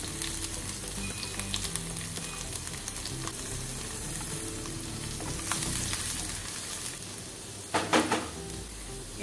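Finely chopped garlic goes into hot oil in a pan for baingan bharta, giving a steady close sizzle with some stirring and a few sharper clinks of utensil against the pan toward the end.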